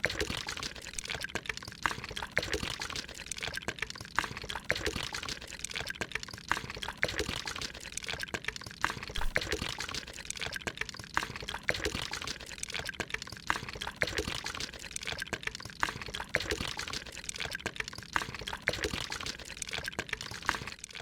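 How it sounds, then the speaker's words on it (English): Wet concrete for a slab pours in the Landlord's Super video game as a steady, unbroken gushing stream that continues for about twenty seconds, with no voices. "Getting a bit of a rhythm pouring this slab."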